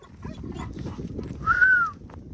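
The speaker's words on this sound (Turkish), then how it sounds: "Aha köpeğin sesi geliyor." A single dog whines or yelps faintly over a low rumbling background, with a brief higher cry in the middle.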